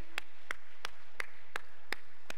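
A church congregation at a revival prayer meeting gives sparse, slow clapping, about seven crisp separate claps spaced roughly a third of a second apart.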